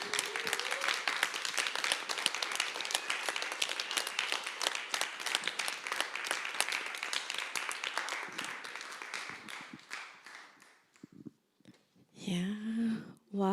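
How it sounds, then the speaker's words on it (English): An audience applauding panelists after a panel discussion on abolishing the child welfare system, steady clapping that fades out after about ten seconds before a voice speaks. "if you could give them a round of applause."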